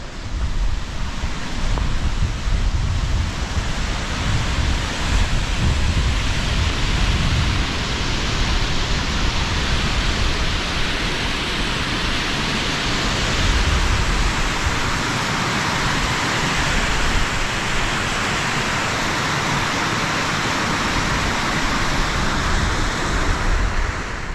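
A waterfall beside a trail near a dam gives off a steady, loud, broadband rushing roar that holds unbroken throughout with no voices over it.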